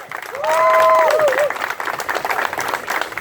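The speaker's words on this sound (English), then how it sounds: "please give a round of applause for her" Audience applause at an open-mic climate rally, a dense sustained patter of clapping mixed with cheers, loudest early on and then tapering but continuing, with a whistle-like tone near the start.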